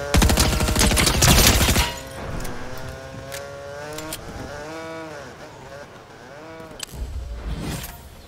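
A quick, loud flurry of gunshots opens a Fortnite Chapter 4 match, then fades into quieter game sounds with some voices in the background.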